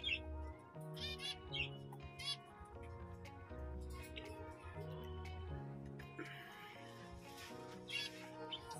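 Finches and budgies in a home aviary chirp and tweet in scattered bursts, faint bird calls layered over a busier background of indoor noise.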